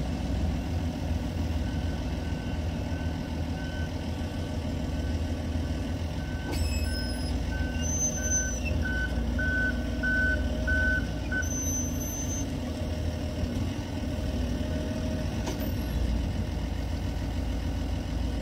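A forklift loading a lumber trailer sounds a short run of evenly spaced reversing beeps over the low, steady rumble of an idling engine, with a few sharper metallic clanks in between.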